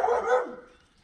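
A dog barks out on a walk with her litter of puppies, a short yelping burst up close that trails off into quiet.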